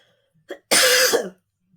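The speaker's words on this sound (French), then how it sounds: "Quand je tousse, ça fait mal." A woman with a sore chest gives a short throat-clearing sound and then one harsh, close cough that breaks off into silence, with no talking.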